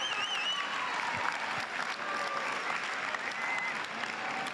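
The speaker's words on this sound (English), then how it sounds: "Let's give David Kennedy a loud round of applause" A live audience claps steadily for a guest speaker at a technology talk, dense and continuous applause with a few scattered whistles and cheers rising above it, no voices speaking.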